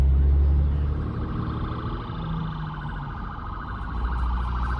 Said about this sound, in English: Oh shoot, there's a ambulance coming.